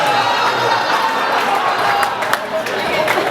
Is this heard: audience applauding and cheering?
yes